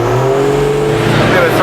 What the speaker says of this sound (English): spotted this Supra on the dyno at Brisbane Auto Salon